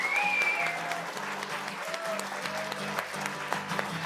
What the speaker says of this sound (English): Oh, big cheer.